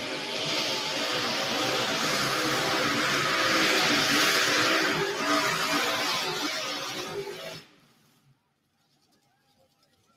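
A tractor or truck engine roaring loud and sustained during an evening pulling run, broad noisy roar that fades out near the end into quiet.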